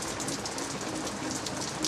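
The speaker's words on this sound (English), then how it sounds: "This is not a Florida thunderstorm, but it's drizzling" Light drizzle falls outdoors in Southwest Florida, a steady soft hiss of fine raindrops on surfaces, even and continuous with no thunder.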